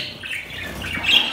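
Pet parakeets and finches chirp and squawk in a busy, close chorus of short, bright calls with no talking.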